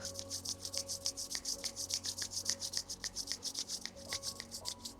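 Hands rub briskly together during a yoga session for thyroid health. A fast, even rhythm of soft, raspy strokes comes from close by, with no talking.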